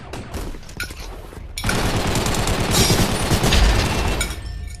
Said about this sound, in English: I'm roaming around here, shooting people